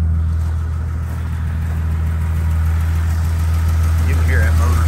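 A 1950 Dodge Coronet engine with an old single-barrel carburetor idles smoothly and close by, a steady low rumble with a faint rise near the end and no spoken words.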